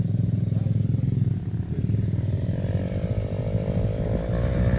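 A motorcycle engine chugs loudly and close in a steady pulsing rumble as the bike pulls away, with faint voices in the background.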